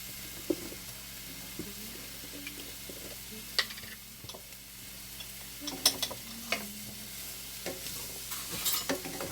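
Garlic sizzles in a hot pan for rasta pasta while a utensil stirs it, giving a steady low crackle and scattered clinks and scrapes, close and fairly quiet, with no talking.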